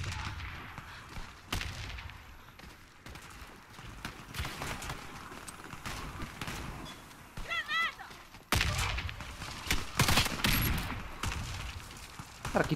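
Gunfire in the first-person shooter Warface with an Imbel IA2 rifle, sharp bursts of shots scattered across the clip, some close and loud, with a heavier cluster near the end.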